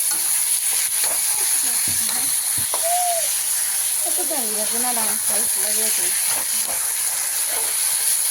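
Ginger and garlic fry in a pan with a constant loud hiss, while voices murmur and rise over the sizzle.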